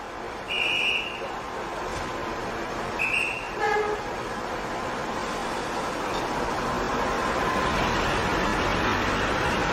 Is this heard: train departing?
yes